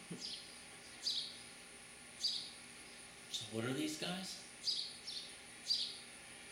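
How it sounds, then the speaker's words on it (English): House sparrow parents and babies at a nest in Lenexa, Kansas give short high chirps at regular intervals, fairly faint, while a person asks a question partway through. "I believe they're sparrows."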